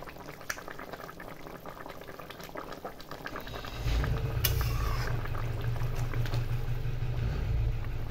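Rui fish in mustard curry bubbles in a pan on a gas stove, a low, steady boil that starts quiet and swells into a loud, continuous rolling simmer with no talking.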